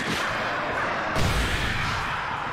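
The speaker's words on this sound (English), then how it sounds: "I'm gonna use my flare gun" A flare gun fires in Alan Wake Remastered, a single heavy boom landing partway through over a constant dense rumble of game atmosphere, with no talking.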